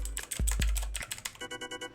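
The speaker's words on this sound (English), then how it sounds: "I'm using a membrane keyboard, so it's like wider" Typing on a membrane computer keyboard, a quick run of soft, muffled key presses that turns into an even, rhythmic tapping near the end, close and fairly quiet with no talking.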